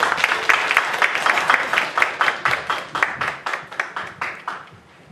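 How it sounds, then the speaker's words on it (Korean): An audience at the launch ceremony of an artists' social union claps as a performer is introduced. The applause starts as a dense, lively patter, then thins into separate, rhythmic claps that fade away toward the end. "큰 박수 부탁드립니다."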